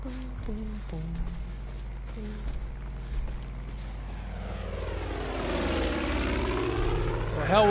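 Propeller aircraft from the video game Far Cry 5 drone steadily throughout, swelling into a loud close pass near the end, with game sound effects and other noise layered underneath.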